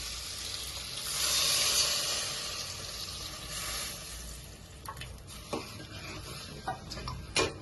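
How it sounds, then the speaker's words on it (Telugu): Tamarind juice tips into a hot frying pan for a Telangana-style pappucharu, setting off a steady loud sizzle that swells early and then settles into a softer crackle with small ticks and clinks near the end. "ఇప్పుడు చింతపండు పులుసు వేయాలి"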